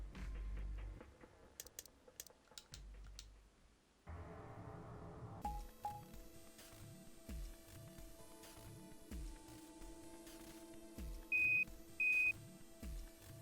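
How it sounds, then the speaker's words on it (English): Electronic beeps and chimes from the puzzle game Zero Escape: Virtue's Last Reward, with a rhythmic pulsing tone and a pair of sharp high beeps near the end, quiet and without speech. "Oh, the beeps."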